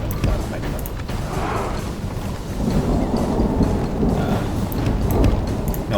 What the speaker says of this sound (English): It's so raining.